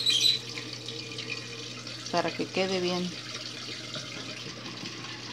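A washing machine drains excess water from its filled tub during the rinse, giving a steady watery rush and splashing under a woman's brief speech in Spanish.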